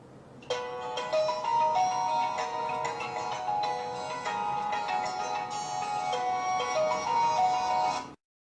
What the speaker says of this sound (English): The alarms and ringtones are filled with soothing sounds of nature too.